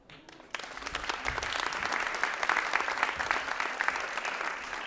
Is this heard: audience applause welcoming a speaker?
yes